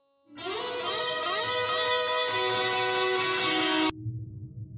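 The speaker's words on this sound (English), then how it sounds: "What if we just listened to the reverb and the delay?" Soloed reverb and delay from a music mix: washy, echoing tails swirl around sustained tones, with repeating echoes stacking up before cutting off abruptly near the end.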